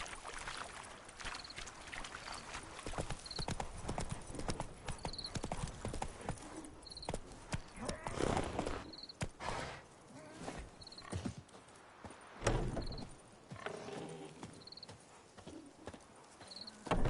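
Steady clip-clop of horse hooves in The Witcher 3: Wild Hunt, a rhythmic trotting gait that continues throughout against a faint game soundscape with occasional soft tones.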